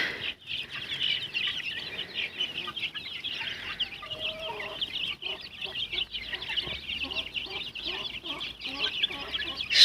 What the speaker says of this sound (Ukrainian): О, Кохінхіни там співають.